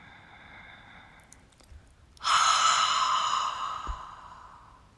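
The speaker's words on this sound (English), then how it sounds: "There's a soft toning of the epiglottis at the back of your throat to create a whisper sound, as if to fog a mirror." A single long, breathy exhale pushed through a gently constricted throat in Ujjayi yoga breathing, a soft whispering hiss close to the ear that swells suddenly and then slowly fades, alone without talk.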